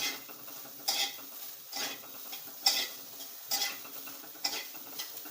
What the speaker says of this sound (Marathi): असं परतून घ्यायचं लाल होईपर्यंत